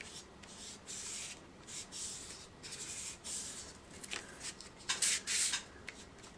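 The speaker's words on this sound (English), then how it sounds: "And then you just kind of rub it back and forth, kind of blending it out." Paper rubbed back and forth to blend marks on an elementary Valentine's Day craft, a soft dry scratchy swishing in repeated strokes that grows louder and rougher toward the end, with no talking.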